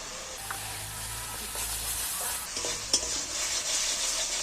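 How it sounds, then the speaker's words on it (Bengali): A spice masala for egg curry is sautéed in a pan, giving a steady soft sizzle with occasional scraping stirs and a sharper clink near the middle, with no talking. "এইবার ভালো করে মশলাটাকে আবারও কষিয়ে দিচ্ছি।"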